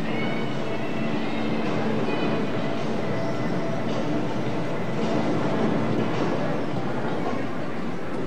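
A train on the Mexico City metro runs steadily, with a continuous loud rumble and faint rhythmic rail clatter throughout, no speech.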